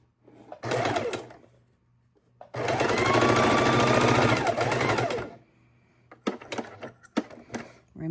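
Sewing machine stitching a fabric room-deodorizer sachet, stopping to pivot around a heart shape; a short burst of rapid stitching, a longer steady run, then choppy start-stop stitches, with a voice talking between runs.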